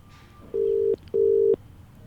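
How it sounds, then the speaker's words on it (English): Two loud, steady electronic ringback tones, each close to half a second long with a short gap between them, come from a phone call being placed through a Tascam Mixcast 4 podcast mixer. "let's call Jack back again and see if you can tell any difference in the audio quality when we're connected to the phone via the cable"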